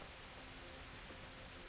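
Steady, hissing rainfall in the medieval game Kingdom Come: Deliverance on a windy day, a dense, even wash of noise with no voices over it.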